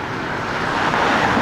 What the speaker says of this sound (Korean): 말이 끝나고 나면 차 소리가 좀 커질 거예요.